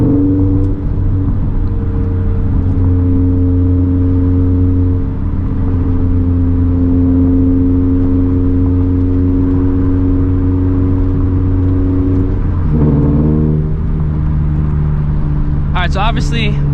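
Turbocharged FRS running E85 fuel accelerates steadily with a sustained engine drone, rising and shifting around the thirteen-second mark, heard from inside the car with a brief burst of whine near the end.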